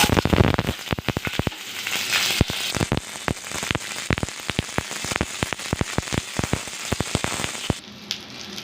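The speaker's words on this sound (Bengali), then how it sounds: "তো লঙ্কাগুলো হেভি ছিটলো হাতে আমার লাগলো" Nigella seeds and slit green chillies spatter in hot oil in a home kitchen. Dense, close crackling and sharp pops continue for about eight seconds before dying down near the end.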